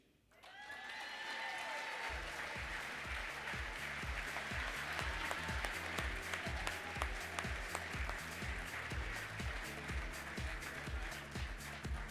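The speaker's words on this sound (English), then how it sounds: "Let's have one more round of applause for these national award winners." A convention hall crowd applauds national bowling award winners at an annual USBC meeting, sustained clapping that swells after a quiet start and carries on alongside a pulsing musical beat.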